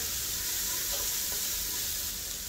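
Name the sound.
ginger and onion sautéing in oil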